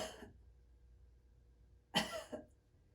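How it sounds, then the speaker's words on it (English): Two coughs from a woman, the first sharp and loud, the second shorter and softer, coming in quick succession after a moment of quiet in a calm indoor room. "So give that a try, a couple of coughs."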